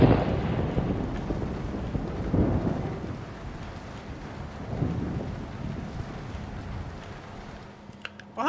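Steady rain hiss from the Red Dead Redemption video game fills the scene, swelling now and then with low, thunder-like rumbles; no voices.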